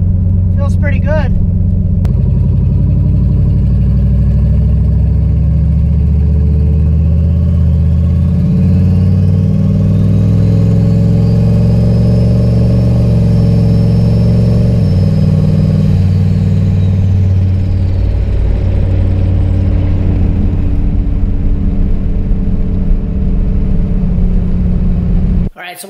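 A turbocharged Ford Ranger pickup with a rebuilt 4L80E transmission drives at partial throttle, its loud, steady low engine drone close by, with a faint whine rising and falling midway before the sound cuts off.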